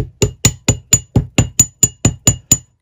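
A small ball pein hammer taps a wire ring in a jewellery workshop, struck with the hammer's weight alone: eleven even, close, sharp metallic taps with a bright ring, spaced about a quarter second apart and heard on their own.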